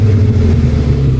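A Saab 9000 2.3 CSE engine idles steadily up close, a loud, even low rumble with no talk over it.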